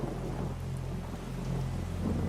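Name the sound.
rain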